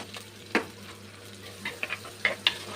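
Onion, green chilli and curry leaves fry softly in a pan, a low steady sizzle punctuated by a few sharp spoon scrapes and taps as everything is stirred together.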